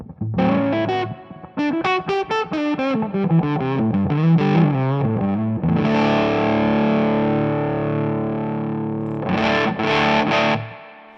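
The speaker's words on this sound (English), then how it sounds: "let's try to back off the sustain or the fuzz just to see if we kind of tones we can get at a lower gain setting" Electric guitar played through a Browne Amplification T4 Fuzz pedal at a low fuzz, lower gain setting: a quick run of picked notes, then a sustained, fuzzy chord ringing out and a final short strum, loud and alone.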